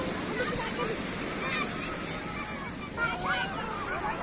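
Ocean surf breaks on a beach where people are bathing, a steady close wash of waves with no lull, and a voice faintly present under the roar.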